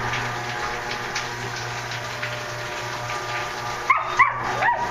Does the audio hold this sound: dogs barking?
yes